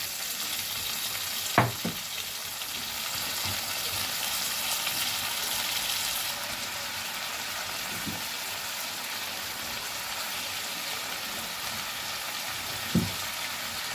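Spinach stalks and peppers sauté in a pan, a constant soft frying hiss under a few sharp knocks from a spoon stirring them, close and unhurried, with no talking.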